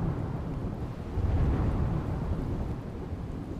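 Heavy unseasonal rain in Vijapur, Mehsana, Gujarat, pours as a dense continuous roar with low rumbling undertones like distant thunder, steady throughout and without voices.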